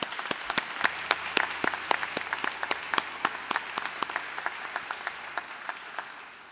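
An audience claps for a music maestro at an event, with steady applause that starts strong and gradually thins to scattered claps before fading out.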